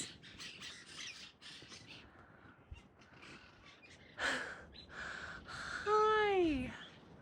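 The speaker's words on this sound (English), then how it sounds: "this place is packed full of birds." Many birds squawk and caw in loud, harsh calls at a Pacific Crest Trail site, ending in a rising then falling squawk up close, while a person talks nearby.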